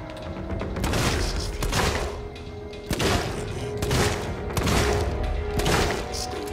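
Revolver gunfire in the video game Alien: Isolation on nightmare mode, a series of sharp, loud shots spaced a second or so apart over a dense, rumbling game soundscape.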